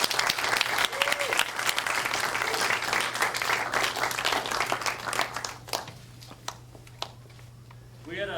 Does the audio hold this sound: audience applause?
yes